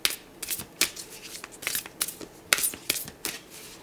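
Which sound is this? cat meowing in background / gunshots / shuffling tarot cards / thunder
shuffling tarot cards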